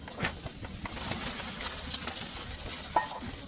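Eggs fry in a pan for a simple breakfast at a nomadic family's camp, with a steady soft sizzle, light stirring scrapes and a brief metallic clink, faint and without talking.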